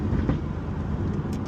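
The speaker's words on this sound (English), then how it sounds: "if you can hear me talking through the ferocious V8 in this Aston Martin" Deep, steady engine rumble from an Aston Martin V8, heard from inside the cabin while driving, continuous and fairly loud with a brief lift near the start.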